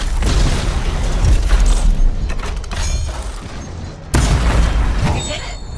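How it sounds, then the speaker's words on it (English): A Colossus siege cannon in the game Anthem fires explosive shells, producing heavy booming blasts and crackling debris over a constant rumbling battle din, with a sharp new impact partway through. "The cannon fires powerful explosive shells with devastating results."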